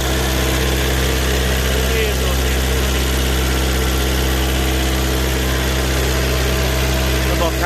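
An Isuzu four-cylinder diesel on a HANTA asphalt paver with a 2.5 m paving width idles steadily up close, a loud, even low rumble with a constant mechanical hum and no change in pace.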